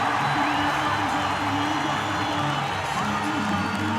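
An arena crowd cheers and whoops steadily at a CrossFit regional competition after a chest-to-bar set, with a commentator's voice talking over the constant roar.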